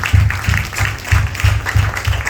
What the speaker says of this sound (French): Vous pouvez les applaudir, vous pouvez les applaudir